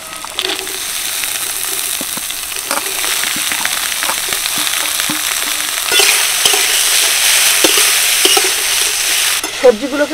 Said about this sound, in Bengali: সবজিগুলোকে প্রায় 30 সেকেন্ড মতো একটু নাড়াচাড়া করে নিলাম।